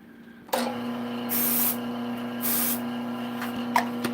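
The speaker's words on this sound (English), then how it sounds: "I'm going to give it a quick spray with the CA glue accelerator just to make sure" Quick bursts of CA glue accelerator sprayed onto a turned wooden ornament: two short hissing sprays over a steady motor hum, with a small click near the end.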